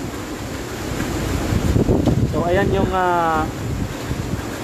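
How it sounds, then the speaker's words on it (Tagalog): Strong Super Typhoon Rolly (Goni) winds roar at the Naga City Police Office, a loud continuous rushing gust filling the scene while someone talks briefly over it. "lakas ng hangin dito sa Naga City Police Office"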